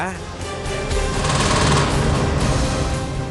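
Rapid crackling firecracker bursts for Naraka Chaturdashi pop in a dense, continuous string, loud and close, with a voice faintly underneath.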